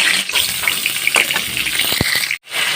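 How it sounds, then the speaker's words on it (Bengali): Bay leaves and garam masala sizzle and crackle in hot oil in a home kitchen, a steady close frying hiss with small pops and a brief pause near the end. "রান্নাটা চড়া দিলাম তেলের মধ্যে তেজপাতা গরম মশলা"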